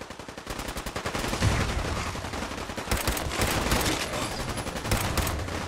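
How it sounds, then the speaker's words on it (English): Rapid bursts of Fallout 4 gunfire crackle continuously with heavy booming explosions mixed in, loud and dense throughout, no voices. "I hear explosions now."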